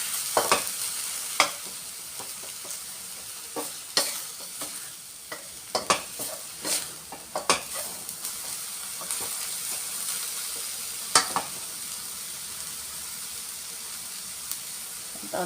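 Spring onion is stir-fried in a sizzling pan while chicken is cooked for an omelette-wrapped dish, with a steady hiss beneath repeated sharp clacks of the utensil scraping and tapping the pan.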